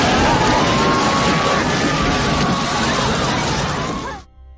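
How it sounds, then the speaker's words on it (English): A loud, sustained crashing roar with shattering noise as an airliner's fuselage tears open in flight, holding for several seconds, then cutting off abruptly into quiet. "It was a thunderous crack that reverberated through the air"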